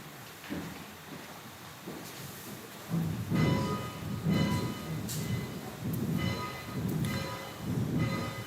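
Church bells rung in a sanctuary bell tower, a series of regular, resonant strikes about once a second with a sustained hum building between them, slightly distant and with no talking.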